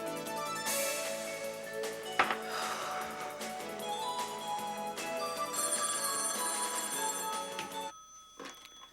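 A telephone ringtone plays loudly and continuously as a melodic electronic ring for about eight seconds, then cuts off. A brief voice follows in the quiet afterward.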